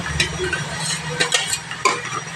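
Spice paste and yogurt are stirred in a pan over a low flame, with a spoon scraping and clinking against the metal at a loose rhythm over a soft sizzle, without talk.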